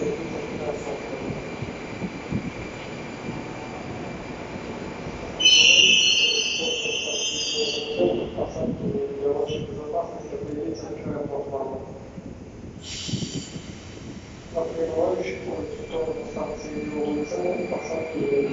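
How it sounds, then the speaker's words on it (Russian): An 81-760 Oka metro train rumbles into a Moscow station with rising, fading rolling noise and high squealing brakes, while a Russian public announcement plays over the platform. "Прибывающий поезд до станции Деловой центр посадки нет."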